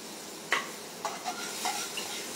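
A pan with milk just poured in gets stirred, with a few soft spoon scrapes at a steady pace over a faint, quiet sizzle.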